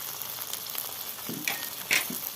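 Turmeric, Kashmiri chili powder and salt hit hot oil for a Bengali masoor dal tarka, giving a faint, close, steady sizzle with a couple of brief brighter spits; no one speaks.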